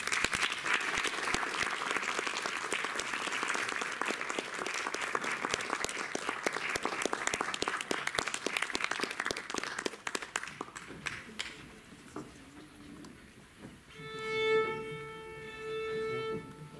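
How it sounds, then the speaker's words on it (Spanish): Loud, sustained audience applause fills a concert hall after a violin and piano performance of Schumann's Violin Sonata No. 1 in A minor, Op. 105, thinning out toward the end as a few sustained tones ring. "Un aplauso, por favor."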